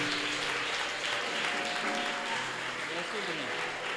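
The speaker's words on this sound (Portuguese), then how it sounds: "Dá uma salva de palmas bem alegre para Jesus" A church congregation claps and cheers for Jesus during a sermon, a dense, steady wash of applause filling the room with some voices mixed in.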